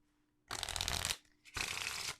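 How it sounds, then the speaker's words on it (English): Two quick riffle shuffles of a card deck, each a dense crisp burst of flapping cards, close and alone with a short pause between. "I happen to love the sound of cards being shuffled."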